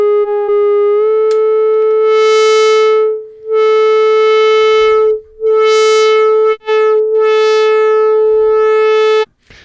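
A Therevox ET-5 synthesizer holds a steady, loud, buzzy tone thick with distortion and saturation. The pitch steps up once early on, and the sound drops out briefly a few times before cutting off near the end.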